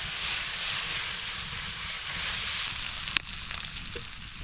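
Food sizzles in butter in a cast iron pan over a campfire on a remote lake island, a steady soft hiss with a brief sharp crackle partway through.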